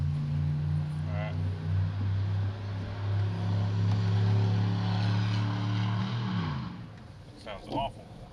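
Rough, loud idle of a bad engine in a 1998 Chevrolet Suburban running with its drive belt removed, a steady low drone with wavering harmonics that drops off near the end.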